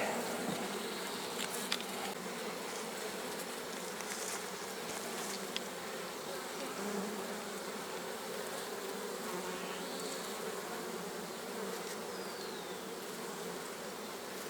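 Honey bees from an opened hive drone in a steady, dense buzz that holds at a moderate level throughout, with a few faint clicks and nearby individual bees passing.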